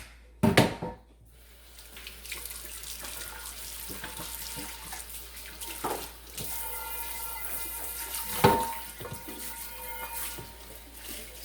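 Tap water runs steadily over a cast iron pan being rinsed, a soft continuous splash with a few louder clanks and shifts as the pan is moved under the stream.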